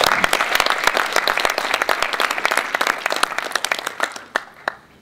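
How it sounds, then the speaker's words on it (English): An audience at a yeshiva education open house bursts into dense, steady applause, loud and close at first, then thinning to a few scattered claps that fade out. "Everyone give them a huge round of applause."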